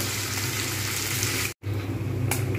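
A katla fish head frying in ghee in a pan, giving a continuous dense sizzle and crackle at close range, broken by a brief gap and a small clatter.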